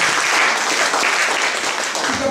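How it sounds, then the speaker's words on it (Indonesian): Applause from a church congregation during a worship service, a dense, steady wash of clapping that fills the space for the whole moment with some voices mixed in. "Dan berikan tepuk tangan bagi Tuhan."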